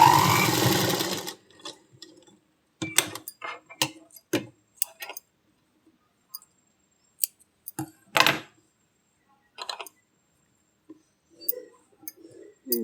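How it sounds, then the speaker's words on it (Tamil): A sewing machine stitches a blouse cup dart in short separate bursts of close mechanical ticking with quiet gaps between them, and a brief noisy rustle opens the clip. "அதனால் தைக்கும் போதே டபுள் தையலாக போட்டுருங்க."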